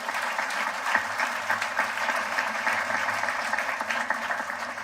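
A college graduation audience breaks into applause, a dense, even crackle of many hands clapping steadily from start to finish.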